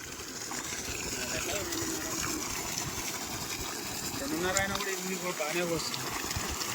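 A borewell pump pours a steady two-inch stream of water into a cardamom field, a continuous gushing rush with a voice briefly over it.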